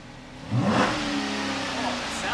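A Dodge Charger's V8 engine idles, then gives one quick, loud rev that settles into a raised, steady drone.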